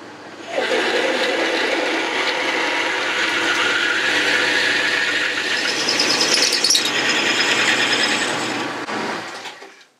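A drill boring a 12mm hole through a steel diestock guide made from scrap, producing a loud continuous grinding, chattering metal-cutting noise that runs steadily for the whole stretch before tapering off at the end.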